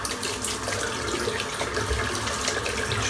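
Running tap water streams steadily into a sink as a shaving brush is rinsed under it, a continuous close wash of water with no talking.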